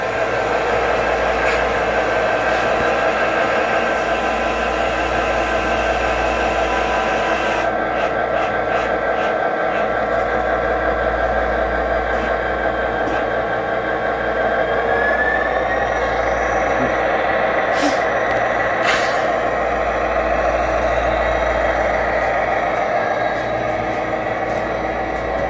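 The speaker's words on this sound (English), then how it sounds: "that's Matt's dead rail locomotive that he's converted. And it has Tsunami 2 sounds" An O gauge dead rail model locomotive fitted with a Tsunami 2 sound decoder gives a steady, loud mechanical drone with a low rumble in a club layout setting, continuous for the whole stretch without breaks.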